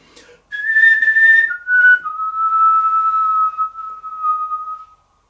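A single human whistled melody holds a high note, steps down twice, and sustains a long steady tone before abruptly stopping, clear and close with no talking.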